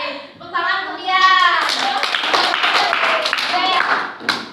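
Classroom applause for a student during a microteaching lesson, a few seconds of scattered clapping from several people while the teacher and children talk over it.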